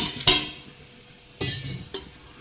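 Soaked, drained green gram is tipped into a pressure cooker, making three short, close clattering bursts with quiet pauses between them.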